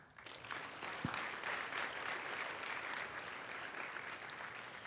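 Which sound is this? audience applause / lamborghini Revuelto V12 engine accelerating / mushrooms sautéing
audience applause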